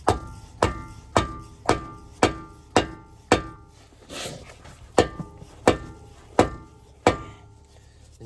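A hammer strikes a 2003 Subaru WRX front lower ball joint with a pickle fork in about eleven sharp, ringing metallic blows at a steady rhythm, close and loud with no talk.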